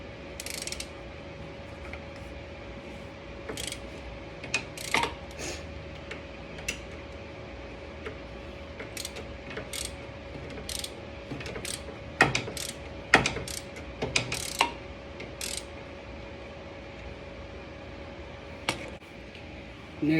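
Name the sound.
ratchet loosening BMW E92 tie rod from inner tie rod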